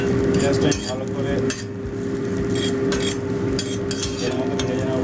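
Chopped onions fry in oil in a pan, with a constant sizzle under repeated scraping and clinking of a utensil stirring against the metal, close and fairly busy, with no speech.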